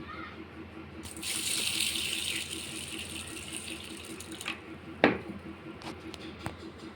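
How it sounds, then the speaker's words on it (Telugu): Red lentils being washed with water in a bowl, with a steady rush of running water for a few seconds, then splashing and a few sharp clinks and knocks as the lentils are rinsed by hand; no talking. "ఇప్పుడు ఇందులో వాటర్ వేసుకొని కడిగేసుకుంటాను నేను"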